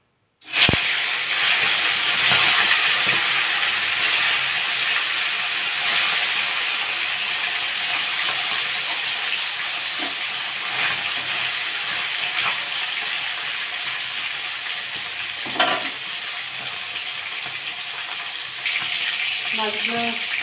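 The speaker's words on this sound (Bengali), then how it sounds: "মাছগুলো ভেজে নেব।" Tilapia pieces fry in hot mustard oil in a wok, giving a loud, steady, close sizzle and hiss that runs unbroken for the whole stretch, with a few soft knocks of utensils.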